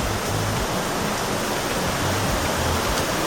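Water rushing steadily at a spot near Cherrapunji, Meghalaya, a loud, unbroken broadband roar like a stream or waterfall close by, with no voices.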